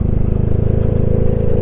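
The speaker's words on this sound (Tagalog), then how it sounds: "Yan ang tunog ni Villain exhaust pagka pababa." A motorcycle with a Villain aftermarket exhaust drones steadily under engine braking downhill, with a deep, throaty exhaust rumble and rapid low pulses, loud and close.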